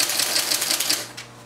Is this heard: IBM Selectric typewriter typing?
yes